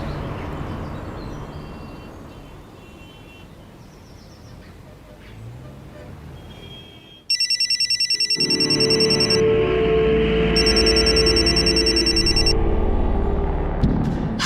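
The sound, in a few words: telephone ringing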